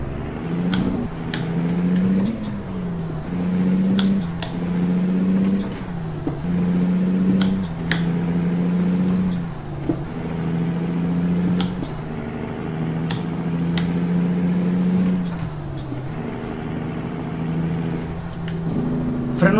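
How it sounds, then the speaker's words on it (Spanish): A Kenworth T609 truck hauling 42 tons of limestone, its diesel engine droning loud and steady while air brakes hiss in repeated sharp bursts, with the engine note dipping and rising between them. "Escuchen, escuchen el motor."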